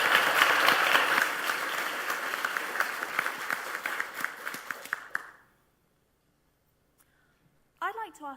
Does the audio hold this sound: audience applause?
yes